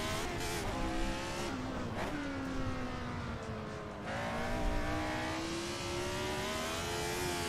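A 1970s Lotus Formula 1 car in a sim racing game, its high-pitched engine note rising and falling steadily through gear changes and revs, loud and continuous with no talking.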